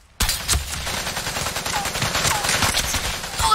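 Rapid gunfire in the mecha shooter Super Mecha Champions, a loud sustained fusillade of overlapping shots that bursts in abruptly after a brief silence and keeps rattling densely to the end.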